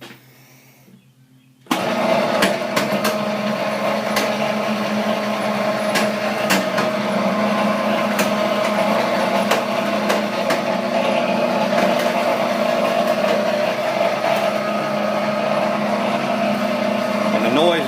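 A new-model Chinese-made sugar cane press starts up after a short quiet moment, then runs with a loud, steady mechanical drone and hum carrying a noticeable noise.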